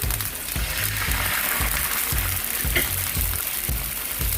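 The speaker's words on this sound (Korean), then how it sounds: "굴소스 1작은술 넣고 소스가 약간 걸쭉해질 때까지 끓여주세요." Soy sauce and water simmering and sizzling in a pan with garlic, a steady, close bubbling hiss that runs throughout with soft rhythmic pulses underneath.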